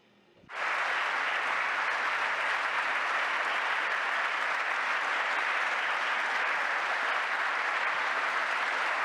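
An audience bursts into applause after a talk, the clapping starting suddenly after a quiet moment and continuing as a loud, steady, even roar to the end.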